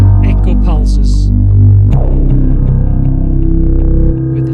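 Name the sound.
Omnisphere synth echo pulses with deep bass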